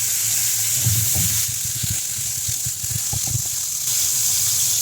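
Pork pieces sizzle steadily in a hot frying pan, a constant bright crackle with soft scraping and stirring knocks in the foreground.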